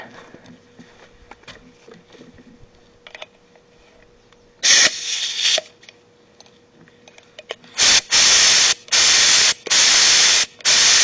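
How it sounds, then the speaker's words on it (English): A spray paint can hisses on go kart parts, first in a short test burst, then in four loud, close sprays with brief gaps between them over faint background noise. "Make sure it sprays."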